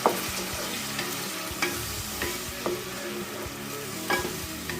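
Chopped onions sizzle and fry in a hot pan while being stirred, a steady crackling hiss punctuated by several sharp scraping clacks of a utensil against the pan, with no voices.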